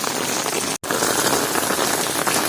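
Steady, dense rain falls close by, a continuous hiss of drops striking surfaces that cuts out for a split second and then carries on unchanged.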